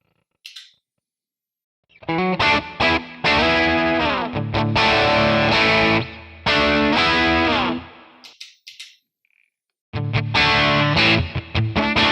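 Electric guitar through a Classic Reverb amp model in Tonex, a Two Rock tone model, with driven chords and phrases after a short quiet start, a gap around nine seconds, then strumming resumes to the end.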